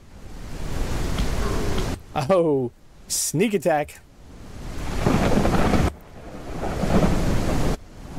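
Heavy rain and rolling thunder in the survival game SurrounDead: a dense, constant hiss that cuts out briefly twice while someone speaks, then returns loud and steady.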